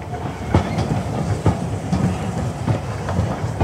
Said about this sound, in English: the imperial train slipped into a siding outside Pskov